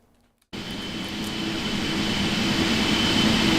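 Delta 777-200LR jet engines idling at the gate in a flight simulator game: half a second of silence, then a loud, steady roar with a thin whine begins abruptly and holds without talk.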